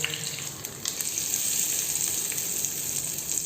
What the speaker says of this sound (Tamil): இப்போ அது கூட கருவேப்பிலையும் ஒரே ஒரு வரமிளகாய் போட்டு தாளித்து இதில் கொட்டிடலாம்.